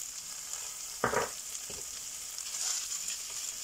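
Meat fries in a pan with a soft steady sizzle, broken by a brief scraping stir near the middle, heard close at low volume.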